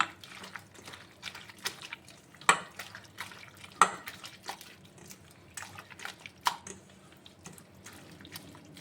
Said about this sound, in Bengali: ভালোভাবে হাত দিয়ে মেখে নিচ্ছি